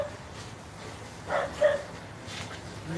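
A dog barks a couple of short times at a middle distance over a low, steady background hum, with no one speaking.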